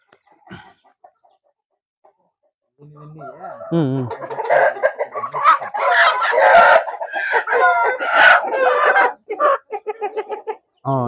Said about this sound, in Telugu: ఇది తమిళనాడు బ్రీడ్ ఇది అంతా తమిళనాడుకు సంబంధించిండే కోళ్ళు